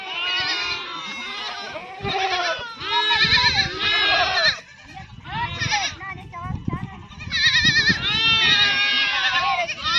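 A flock of goats and young kids bleats in the shepherds' herd, many close, overlapping calls rising and falling continuously, with high-pitched cries from the kids among deeper bleats.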